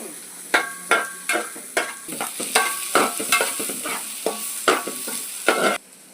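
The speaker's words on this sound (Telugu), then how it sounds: "ఎందుకంటే ఈ ఉల్లిపాయలు పచ్చిమిరకాయలు వేగడానికి. కొంచెం వేగితే చాలండి." Onions and green chillies fry in a little oil in a pan under a continuous sizzle, broken by a regular series of sharp scraping strokes from a spatula stirring them, close and fairly loud with no talking.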